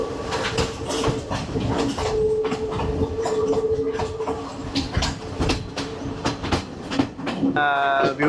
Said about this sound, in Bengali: আর বর্তমানে আছি আমি ট্রেনে।